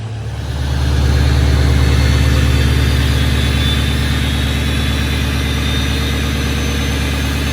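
A lifted 6.0 diesel truck engine fitted with a stage 1 Garrett turbo idles loudly and steadily close by, its deep low rumble joined by a faint whistle higher up, with no one speaking.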